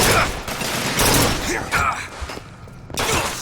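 Carbine fire in the Bioshock Infinite DLC Returning to Rapture: a series of sharp, loud shots in close bursts, overlapping with game clutter and some voice, broken by a brief quieter lull.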